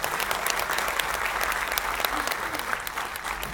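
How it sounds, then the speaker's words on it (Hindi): Audience applause for Dr Sharma fills a hall in Seawoods, a dense, steady wash of many hands clapping at even loudness throughout, with no voices rising above it. "एक बार जोरदार तालियां डॉक्टर शर्मा के लिए।"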